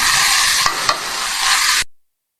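Sliced bottle gourd (upo) being stirred in a frying pan, with a steady broadband sizzle of oil and a couple of sharp scrapes of the utensil against the pan, close and fairly loud, with no talking.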